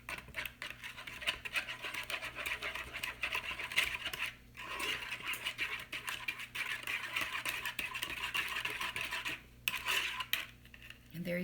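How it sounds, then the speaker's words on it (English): Utensil stirring a meatloaf mixture with a tablespoon of mustard, steady scraping and clinking against the bowl close up, continuous with a couple of brief pauses, no talking. "And then I'm going to stir this all together."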